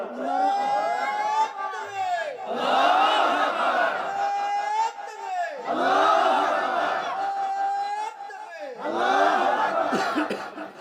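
Rally crowd in bursts, roaring a takbir chant in unison three times, loud and close, each shout swelling and dying away with short gaps of murmur between.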